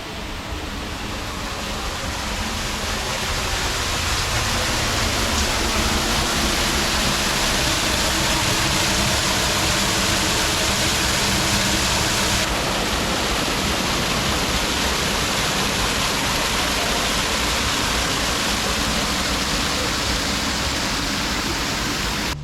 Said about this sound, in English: I started to hear a growing sound of falling water as I walked down these stone steps.